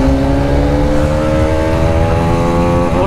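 Hero Karizma XMR 210 and Pulsar RS200 motorcycles accelerating hard in a drag race, loud and close, with a rising engine whine that climbs steadily in pitch and then shifts near the end.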